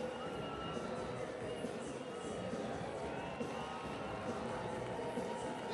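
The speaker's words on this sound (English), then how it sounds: "Locomotive FC being cheered on by the home crowd" Home crowd cheering El Paso Locomotive FC in a soccer stadium, a distant, even roar of many voices sustained throughout at low level.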